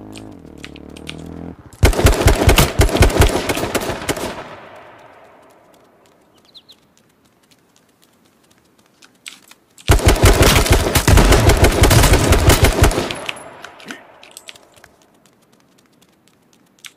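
Two long, loud bursts of automatic gunfire in the survival shooter game H1Z1 are separated by several seconds of near silence, each burst trailing off into echoing decay.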